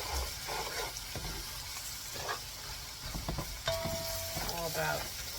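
Masala mixture sizzles and fries in hot oil over lowered heat for a Fijian-style chicken palau, with a steady crackling hiss and intermittent scraping stirs close by.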